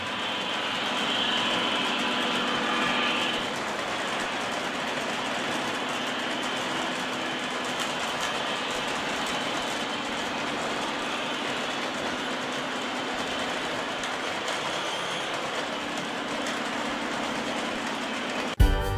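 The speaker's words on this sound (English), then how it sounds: "the locomotive continues pulling the train through the horseshoe at this point in" An O gauge model train pulled by a locomotive rumbles steadily along its track through a horseshoe curve with a faint rhythmic clatter, a continuous mid-level hum throughout, ending in a brief click.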